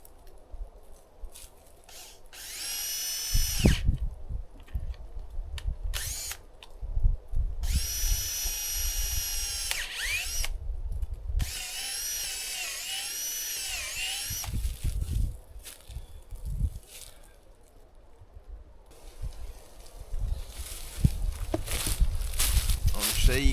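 A power drill whines in repeated high-pitched bursts of several seconds each, close up, with clunks and handling noise between the runs.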